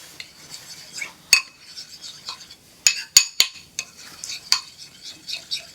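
Garlic is stirred into udon noodles with a metal utensil: soft scraping and shuffling broken by several sharp clinks against the bowl, close and fairly quiet.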